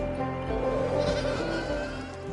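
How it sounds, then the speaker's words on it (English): Sheep bleat repeatedly in the video game Aer: Memories of Old, a continuous layered bleating over a steady low background hum, fairly loud and without speech. "Yeah, I hear you, sheep."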